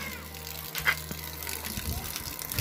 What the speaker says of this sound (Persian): الان پمپ صداش داره میاد